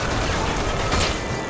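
A grenade launcher in a Bioshock firefight, heard as a brief continuous rumble of blasts and gunfire, loud and close, with no clear gaps between the shots.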